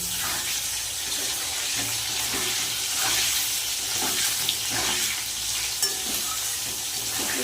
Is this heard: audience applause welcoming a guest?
no